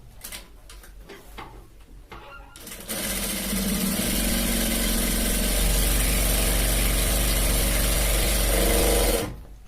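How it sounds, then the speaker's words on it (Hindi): An electric sewing machine stitches a shirt collar seam, starting with a few short bursts and clicks, then running in one fast continuous whirring hum for several seconds before stopping abruptly. "इस तरह से एक बूट की सिलाई लगा लेनी है।"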